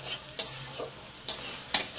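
Fried onion and chili mixture with turmeric and salt stirred in a pan, three or four distinct scraping strokes over a soft, steady sizzle, close and alone.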